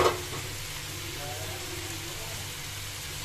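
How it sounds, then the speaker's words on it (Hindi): Tadka tempering crackles in hot oil in a kadhai for a capsicum and potato curry, a soft steady sizzle with an initial sharp spatter, fairly quiet and close, while someone speaks over it. "तो अब मैं इधर लगाती हूँ तड़का।"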